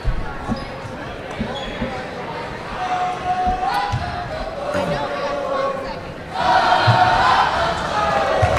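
Crowd noise at a high school basketball game in Keota, a steady murmur of spectators with scattered shouts and thuds, swelling into louder cheering near the end while a commentator talks over it.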